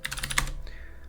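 A few quick keystrokes tap on a computer keyboard, a Y followed by Enter, in a terminal on Fedora Linux KDE: a rapid cluster of crisp, close clicks, then a fainter final press.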